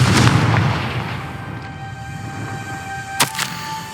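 Confringo fire spell in the Hogwarts Legacy video game, opening with a loud booming blast that rumbles and fades, then a sharp crack near the end over steady game ambience.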